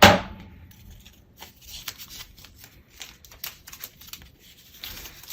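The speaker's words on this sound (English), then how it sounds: "So I'm just going to cut it into strips." Color changing vinyl being cut into strips, heard as crisp, close snips and small crinkling rustles in an irregular run after a sharp opening clack, with no voices.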